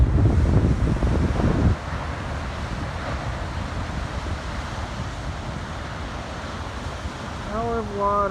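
Ocean waves crash and wind buffets the microphone on the Oregon coast, a loud roaring wash that breaks harder at first and then settles into a steady rumble, with a brief bird-like chirp near the end.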